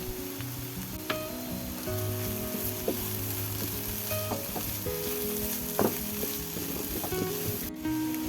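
Chicken fried rice stir-frying in a hot pan, a soft continuous sizzle with scattered scraping and clinking strokes of a utensil, fairly quiet and with no voices.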